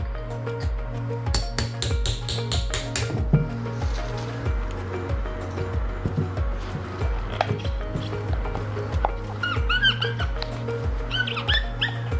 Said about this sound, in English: using a hammer and a drift, we're going to knock the boot off of the CV joint